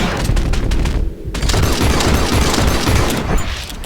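Rapid gunfire from a double action revolver with a bandit grip in the video game Red Dead Redemption 2: loud, dense shots that run together almost continuously, with a brief dip partway through.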